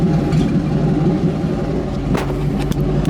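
A Ford Mustang with a troubled, smoking engine rumbles loudly while being driven, a steady deep drone with a brief rise in revs near the end and no voices.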